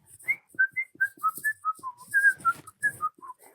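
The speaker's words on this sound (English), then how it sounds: "I'm driving home and I'm whistling." A person whistles a lively tune alone while driving, short bright notes rising and falling in quick succession, close and clear.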